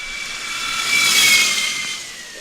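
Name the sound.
Formula Student race car accelerating off the line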